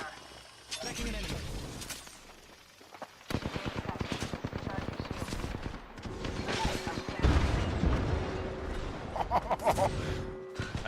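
Rapid automatic gunfire from an Apex Legends match, dense bursts of shots with metallic clatter and impacts, loud and close, continuing steadily from a few seconds in, with game voice lines and talk layered over it.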